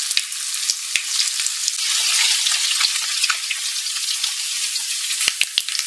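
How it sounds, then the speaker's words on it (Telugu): A spoonful of mustard seeds and finely chopped ginger fry in hot oil. A bright, steady sizzle is punctuated by sharp crackling pops, close and loud throughout. "ఆయిల్ హీట్ అయిపోయిందండి. ఫస్ట్ మనము ఆవాలు 1 స్పూన్ యాడ్ చేసుకుందాం. తర్వాత సన్నగా తరిగిన అల్లం ఒక చిన్న ముక్క యాడ్ చేసుకుందామండి."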